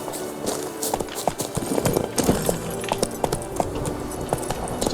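Roach, a horse in The Witcher 3: Wild Hunt, trotting with steady, close clip-clop hoofbeats in a quick repeating rhythm, with game ambience underneath.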